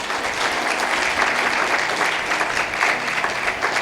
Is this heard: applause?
yes